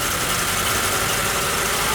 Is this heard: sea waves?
no